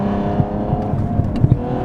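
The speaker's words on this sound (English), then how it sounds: "you get some turbo noise, you get some really good blow-off noise" A 520 hp Cadillac ATS-V tuned by Renick Performance, with stock turbos and an open exhaust, holds a steady engine drone with faint turbo whir and a few short blow-off puffs, close and loud.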